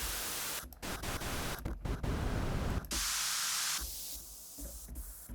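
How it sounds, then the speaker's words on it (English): Filtered white noise from the Ocean Swift Porphyra hybrid Kontakt synth plays as loud, close broadband hiss in short bursts of changing tone, some bright and some darker, with abrupt cuts between them. "you also have some filtered ones where, yeah, they're a little bit kind of, it's white noise, but no longer white"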